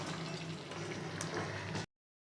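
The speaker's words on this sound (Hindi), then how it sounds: "अब ये टमाटर के पानी में ही हम इसे भून लेंगे" Mutton sizzles and bubbles steadily as it fries in tomato juice in a kharai pan for Peshawari charsi karahi, a dense continuous hiss that cuts off abruptly.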